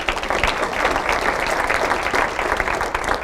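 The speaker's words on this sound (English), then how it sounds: "And yeah, you can clap." An audience at a school district state-of-the-schools address claps steadily, a dense, even wash of many hands sustained throughout at moderate loudness.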